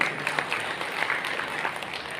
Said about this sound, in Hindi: उसके लिए तालियां बजी हैं सारी है